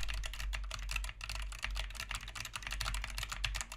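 Quick, steady typing on a mechanical keyboard, picked up by a tiny microphone set behind it, giving a fast run of crisp clicks over a low hum.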